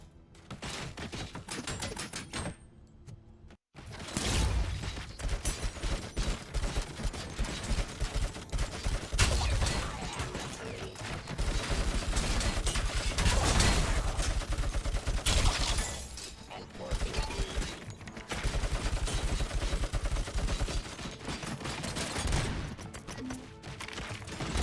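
Turret gunfire in the RoboCop: Rogue City video game during a shootout at the Detroit Expo, loud sustained bursts of automatic fire with brief pauses and sharp impacts, under occasional talk.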